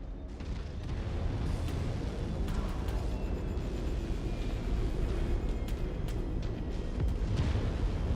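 A destroyed target explodes in MechWarrior 5, producing a continuous deep rumbling roar that holds steady for several seconds, with a few faint sharp pops above it.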